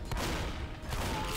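Guns blast at a tank in a shooter video game, dense continuous fire with a couple of sharper reports, fairly quiet and muffled in the mix.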